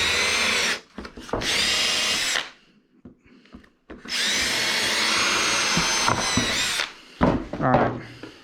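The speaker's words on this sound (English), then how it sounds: "now we're just gonna drill our holes just right there" A power drill with a dull bit whirs loudly in several bursts of a few seconds each, drilling holes for a level stand, separated by short quiet pauses with faint handling noises.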